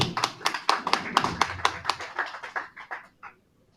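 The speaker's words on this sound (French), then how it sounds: "On l'applaudit aussi." Audience applause at a public meeting in Le Grau-du-Roi, a short burst of close, distinct hand claps that slows and thins out before stopping.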